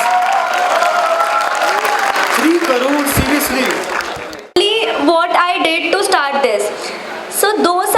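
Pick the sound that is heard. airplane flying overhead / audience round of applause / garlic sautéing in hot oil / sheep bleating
audience round of applause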